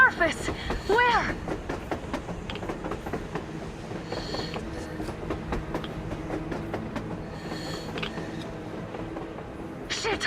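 A train rolls past on the surface in the post-apocalyptic game Metro Exodus, its steady clickety-clack of wheels and rumbling cars carrying on for ten seconds, with a voice shouting over the start and more talk scattered throughout.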